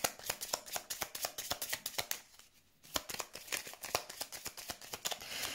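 Tarot cards being shuffled and drawn, a steady stream of rapid papery riffles and flicks that pauses briefly, then resumes, close and fairly quiet with no speech.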